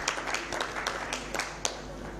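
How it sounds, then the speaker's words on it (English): Light, thin applause from an audience at a child labour dialogue event as an ILO representative signs, heard as soft scattered claps at a low level. "A round of applause"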